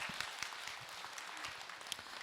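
An audience at a Buddhist monk's question-and-answer talk applauds in a dense, steady patter of clapping at moderate volume for about two seconds.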